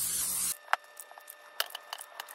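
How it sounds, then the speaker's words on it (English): Cooking spray hisses from a can onto a baking pan for cookies in one short half-second burst, followed by quiet small clicks and taps of handling. "Grab your pan. Go ahead and spray it."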